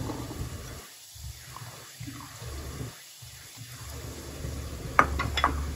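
Soft sizzling of small onions frying in a pan, with a few stirring scrapes and a sharp clink of a utensil near the end.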